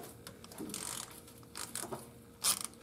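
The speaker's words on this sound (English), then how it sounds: "I'm going to go around and loosen all these bolts." A ratchet loosens half-inch bolts on a Jeep transmission pan, giving quick close bursts of metallic clicking and pawl rattling, with short pauses and one sharp click at the end.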